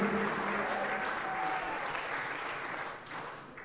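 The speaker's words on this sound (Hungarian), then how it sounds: "Igazából esnek a tapsok" A concert audience applauds steadily, a dense and even wash of clapping that tapers off slightly toward the end, with no voices on top.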